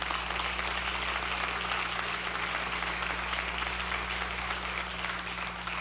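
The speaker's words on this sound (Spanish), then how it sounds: "Dale un aplauso a él si lo quieres dar." Steady applause from a church congregation, a dense, even wash of clapping holding at the same loudness throughout, with a low electrical hum underneath.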